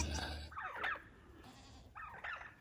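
A LaMancha goat on a farm bleating twice, two short wavering calls about a second apart, moderately near and quiet, with faint low background noise at the start.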